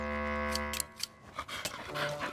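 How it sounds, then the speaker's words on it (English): Dogs pant and give a few short barks at close range on an outdoor walk, over a steady low engine-like drone that cuts out partway through. "Good dogs."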